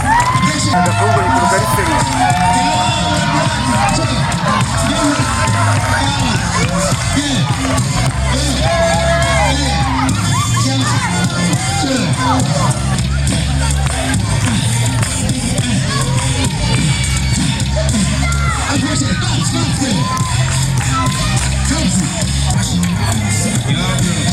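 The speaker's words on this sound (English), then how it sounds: "Please clap for them as they come." Large talent show audience roaring with continuous cheering, shouting children and crowd hubbub, loud and sustained throughout with overlapping voices and a dense, unbroken texture.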